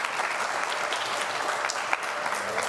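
Easter Vigil congregation applauding in church, a dense, steady burst of many hands clapping close and loud throughout.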